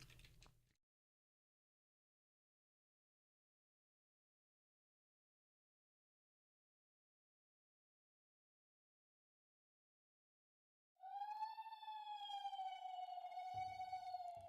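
Ominous boss-fight music with a wailing, siren-like tone much like an ambulance, rising in loud and sustained after a long stretch of silence, with a short burst of sound at the very start.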